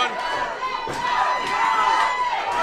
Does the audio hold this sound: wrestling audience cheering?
yes